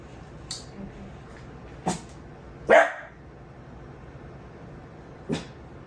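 A dog barks a few sharp, separate times with pauses between, the loudest bark near the middle, against a quiet room with no talking.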